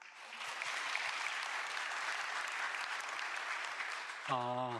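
Sustained audience applause fills a Korean national policy planning committee public report rally, steady and dense throughout, before a voice begins speaking near the end.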